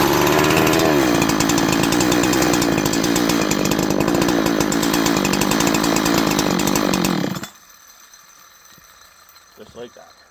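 A Holzfforma 372XP chainsaw engine runs loud and close at a steady high idle during an air leak test, then shuts off abruptly and leaves near silence with a faint voice.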